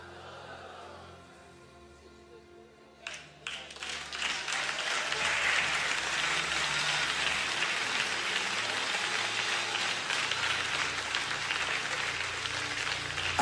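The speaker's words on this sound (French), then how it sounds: "applaudis le Seigneur." Applause builds in a church congregation during a midday prayer service, starting with scattered claps after a quiet stretch and swelling into steady, dense clapping that continues to the end.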